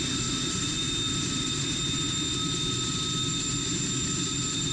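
Aircraft jet engine in Strike Fighters 2, a steady, continuous whining roar with high tonal whine lines over a low rumble, constant in loudness with no speech.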